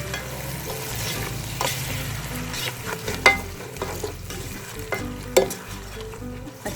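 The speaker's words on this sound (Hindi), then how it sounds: "आप अच्छे से इसकी फ्राइंग करें।" Green chili and coriander fry and get stirred in a pan for biryani, a steady close sizzle broken by scraping stir strokes and a few sharper clinks, with no voices.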